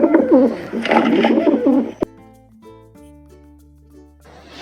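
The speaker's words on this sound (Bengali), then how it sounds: "এটা হলো পায়রা। পায়রাকে ইংরেজিতে বলে পিজন।" A pigeon coos close by for about two seconds in soft, rolling throaty phrases, followed by quieter sustained tones.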